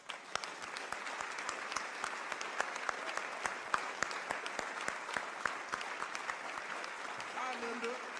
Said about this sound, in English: if you would give her a huge round of applause